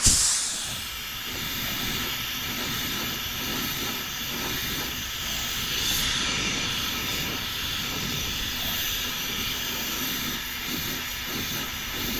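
Spray gun painting a new plastic car bumper, a steady loud hiss of compressed air and paint that carries through the whole stretch with no talking.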